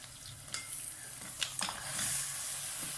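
Mutton being added and frying with onion, garlic and ginger for degi palak gosht: a continuous nearby sizzle with stirring clatter and a brief sharper scrape midway, steady and moderately loud with no speech.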